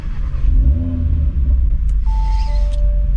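A 2022 Audi RS3 engine, set to Dynamic mode, turns over with a low rumble, then catches and settles into a loud idle inside the cabin, with chimes and electronic tones sounding over it.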